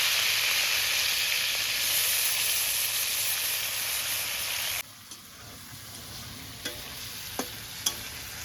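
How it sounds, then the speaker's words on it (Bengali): Steady sizzling of prawns frying lightly in hot oil, loud at first then quieter, with a few sharp clicks of utensils toward the end. "এগুলো ভাজা একটু হালকা করে ভাজা করতে হয়"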